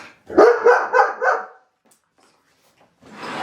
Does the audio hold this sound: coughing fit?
no